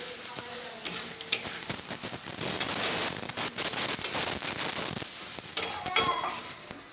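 Fried pumpkin and potato pieces being sautéed with spices in a pan: loud, continuous close sizzling broken by frequent sharp scrapes and clacks of a spatula stirring against the metal.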